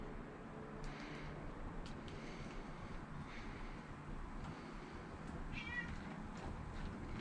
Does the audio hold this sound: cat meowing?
yes